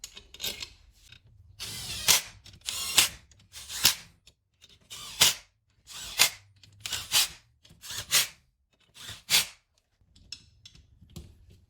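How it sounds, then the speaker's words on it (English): Engine bottom-end bolts on a 2002 Suzuki Carry being torqued to 212 inch-pounds: close, short rasping ratchet strokes repeating in a steady rhythm about once a second, with quiet gaps between them. "These are just torqued again in your sort of normal tightening sequence that you would do to 212 inch-pounds."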